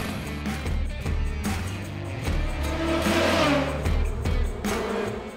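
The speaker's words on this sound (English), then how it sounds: "watching a car flash by" A race car at the Long Beach street circuit roars past, its engine note swelling and fading in several surges of revving and acceleration, loud and close with no talk.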